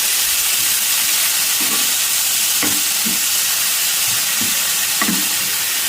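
Ingredients for mutton paya curry frying in oil, a dense steady sizzle and hiss throughout, with a few soft stirring scrapes spaced through it and no talk.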